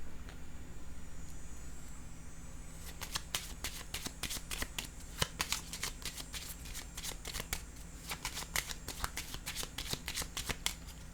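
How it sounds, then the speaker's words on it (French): Tarot cards are handled and laid down on a table. After a quiet opening comes a long run of quick, crisp card flicks and slaps, close and fairly soft, in an uneven rapid rhythm. "Je vais déposer une carte ici."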